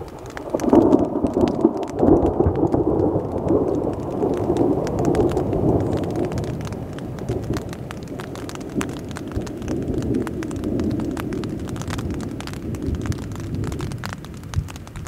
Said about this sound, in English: So the rain, it sprinkled for about 45 minutes.